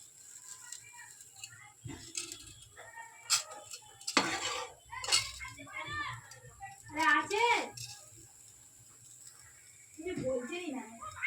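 Chicken pieces frying in oil for a home-cooked chicken dish, a low sizzle with occasional stirring clinks of utensil on pan, mostly under people talking nearby.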